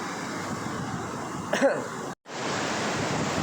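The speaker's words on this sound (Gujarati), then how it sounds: "આ પણ અહીંથી ધોધ નીચે પડે હો." Steady rushing roar of a waterfall in Gir forest, continuous and fairly loud, cutting out for a split second before resuming.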